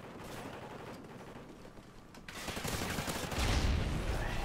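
Gunfire in Call of Duty Ghosts team deathmatch on the Sovereign map: dense, overlapping rapid shots and bursts that grow louder and busier toward the end, with no talking.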